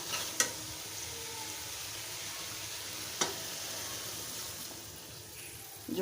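A pangas fish curry with tomato, flat beans and new potatoes simmers and fries in a pan after a little broth is added. A steady bubbling sizzle is punctuated by two sharp clinks of a utensil.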